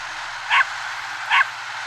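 A dog in The Legend of Dragoon video game barks twice in a village by the sea, two short, sharp digital barks spaced under a second apart over a quiet game background hum.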